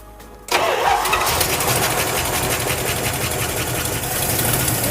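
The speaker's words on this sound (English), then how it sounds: "We're gonna fire off the motor for the very first time on the stock gas tank." After a brief quiet moment, the engine of a junkyard Plymouth Cuda catches on its first start and settles into a loud, close, steady running rumble with no voices.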